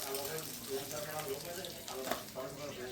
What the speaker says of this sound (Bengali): এখানে তেলের মধ্যে জিরে আর কাঁচা লঙ্কা পেঁয়াজ ভেজে নিচ্ছি